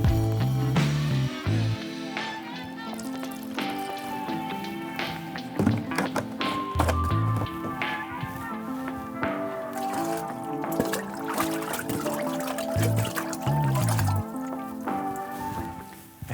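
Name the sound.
measuring and pouring cleaning agent for Dräger BG ProAir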